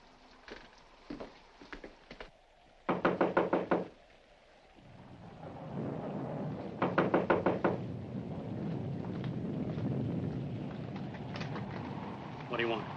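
Repeated knocking on a front door in an old 1946 mystery film setting, two clear bursts of several quick raps each, over background music and room noise.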